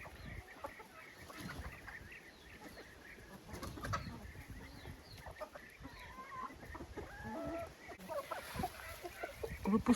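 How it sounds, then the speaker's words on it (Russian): A flock of hens, including Araucana-type birds, cluck steadily and softly as they are let out to graze on grass, with a continuous chorus of close and distant calls and occasional louder squawks throughout. "Выпускаю на траву кур не часто"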